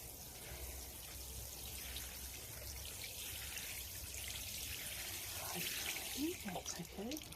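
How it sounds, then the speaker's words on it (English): Water trickles steadily as it is poured onto a potted plant, a soft continuous splashing heard close up at low volume. "let's give it a little bit more water."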